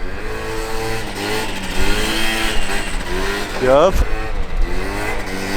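Honda Elite AF16 scooter with a water-cooled 120cc stroker Dio engine revs in rising and falling bursts nearby, with a sharp climb near the end, while people talk over it.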